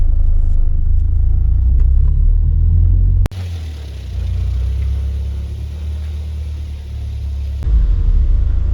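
A 1991 Ford Fiesta RS Turbo produces a loud, steady low engine rumble heard from inside the car, broken by two abrupt shifts in tone where the drone drops and returns, with no talk.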